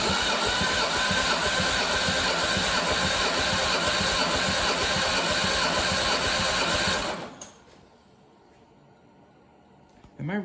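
An MG TF engine runs loud and steady with a fast, even beat for about seven seconds, then cuts off abruptly into near silence before a brief knock at the end.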